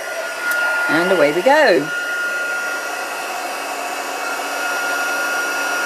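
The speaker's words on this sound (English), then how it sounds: "Heat up my heat tool." A handheld embossing heat tool blows hot air to melt embossing powder for crafting. A brief spoken phrase comes first, then a close, loud, steady whooshing hum runs on alone.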